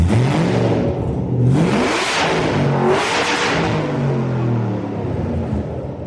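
A straight-piped Aston Martin V8 Vantage is revved hard several times up close, its loud exhaust rising and falling in rapid swells over a deep, rumbling idle, with no talking.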